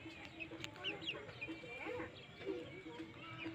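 A two-month-old pure Aseel rooster clucks in short bursts at close range, its calls repeating over a steady farmyard background.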